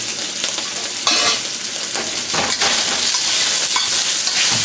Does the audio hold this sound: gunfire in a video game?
no